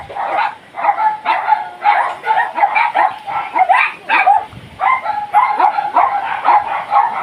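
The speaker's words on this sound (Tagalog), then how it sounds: "Maraming aso, mga kaibigan." Many dogs bark repeatedly and close by along a hiking trail in Boracay, overlapping woofs and yips in a steady rhythmic chorus.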